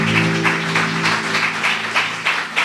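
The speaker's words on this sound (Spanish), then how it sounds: "Dale un fuerte aplauso al Señor con todo tu corazón." Church congregation clapping in a quick, even rhythm, many hands beating together at close range, with faint sustained organ or keyboard tones underneath.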